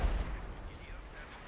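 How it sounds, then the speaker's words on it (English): A howitzer artillery barrage in the strategy game Company of Heroes 2, heard as a low, rumbling boom that fades over a second or so beneath a commentator's talk. "Another howitzer barrage here."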